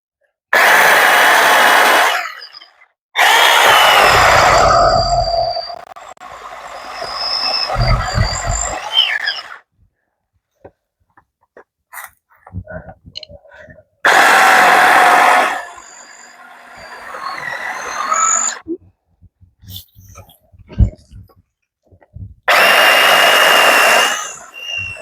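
A Tietoc handheld saw rasps through wood in several loud, close bursts of rapid strokes separated by pauses, with some quieter scraping and knocking between cuts.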